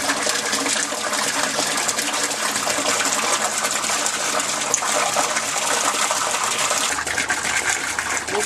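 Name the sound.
aquaponics grow bed siphon draining, rush of water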